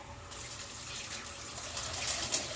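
Tap water from a refrigerator dispenser filling a water bottle, a close gushing, splashing stream that starts abruptly and grows slightly louder and brighter as the bottle fills, no speech.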